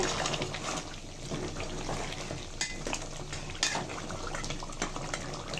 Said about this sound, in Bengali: ঢাকনাটা তুলে দেখাবো মাছটা রান্না